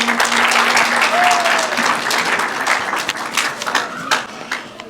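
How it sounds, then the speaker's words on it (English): An audience claps for the mayor of Greater Dandenong at an international exhibition opening, a full, steady round of applause that thins toward the end, with a brief tonal sound in the crowd. "Clap for him, please."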